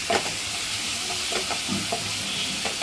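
Onion sautéing in a pan, frying with a steady broadband sizzle alongside light stirring scrapes and a few soft clicks, close and continuous with no talk.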